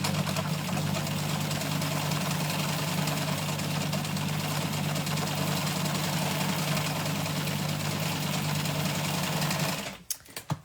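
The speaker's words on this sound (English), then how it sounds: "So I'm just going to sew a single straight line." A sewing machine runs a single straight basting stitch, a steady continuous mechanical whir held at an even pace for about ten seconds before stopping abruptly, with a few faint clicks at the end.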